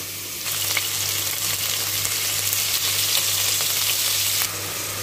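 Meat sizzling in a pan with ghee and spices for an okra stew, a dense, loud, continuous frying hiss with a low steady hum beneath, easing slightly near the end.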